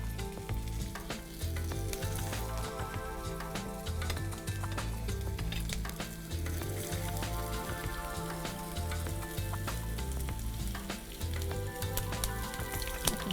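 Chicken mince Adana kebabs frying in hot oil give off a loud, dense, continuous crackling sizzle with rapid popping spatters, steady throughout and without any talk.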